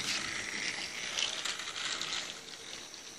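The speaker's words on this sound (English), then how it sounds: "I am back with Diesel 10 connected with the wagon that came with the set" A battery-powered Diesel 10 toy train pulling a wagon whirs and ratchets along a plastic track, giving a steady buzzing mechanical grind that fades slightly toward the end.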